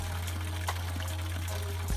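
Water pours steadily from a small pond pump line, a constant trickling stream with a low steady hum beneath it, close and continuous.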